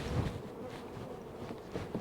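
Honey bees buzzing at a hive during beekeeping work, a low, faint, continuous drone with a few nearer passes swelling briefly.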